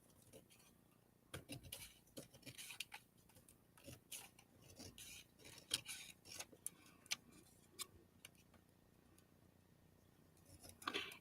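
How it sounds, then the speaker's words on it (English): Small, thin scissors snip through paper in a run of quick, crisp cuts with brief pauses between them, close up and fairly quiet, with faint handling rustle and no talking. "Need my skinny scissors."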